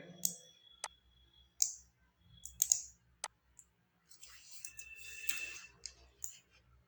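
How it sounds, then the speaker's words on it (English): Keystrokes on a computer keyboard while entering a Sqoop import command, sparse irregular clicks spaced across several seconds, close and quiet with no talking. "So now I will type"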